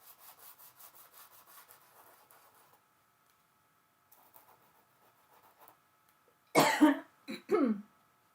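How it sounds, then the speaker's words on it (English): Faint rhythmic rubbing followed by quiet, then a close, loud cough and two shorter coughs. "Cough, cough, cough, cough."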